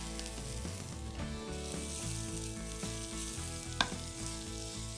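Strips of guanciale sizzling in a pan of hot oil with garlic cloves, a steady soft crackle of frying with a brief sharp clink partway through.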